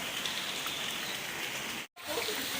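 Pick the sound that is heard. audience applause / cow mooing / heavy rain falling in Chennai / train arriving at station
heavy rain falling in Chennai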